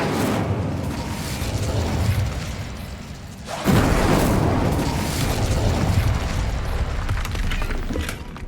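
Incendio fire spell cast in Hogwarts Legacy, a sustained rumbling roar of flames with a sudden loud whooshing surge midway that keeps burning to the end.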